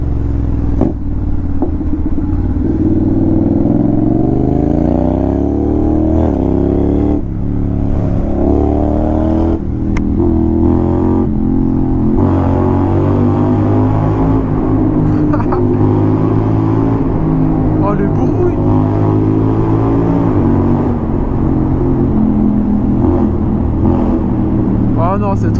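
A Honda X-ADV maxi-scooter engine with a loud exhaust drones and rises in pitch as the rider accelerates through gears at night in Paris, a loud continuous motor sound with a voice speaking over it.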